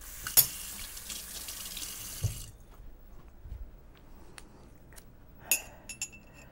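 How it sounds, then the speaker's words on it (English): A kitchen tap runs steadily as something is rinsed under it, then shuts off, followed by a few faint clinks of glass or utensils in a quiet room. "I want to rinse this off."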